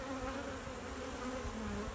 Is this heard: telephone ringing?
no